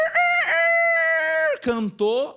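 A rooster crows once, loud and close: a long sustained call that bends upward at the start and trails off, followed by two short, broken final notes.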